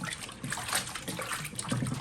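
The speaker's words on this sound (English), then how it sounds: "Let's get some water and wash it off." Running water rinses salt off saltfish in a kitchen, a continuous close splashing trickle heard without speech.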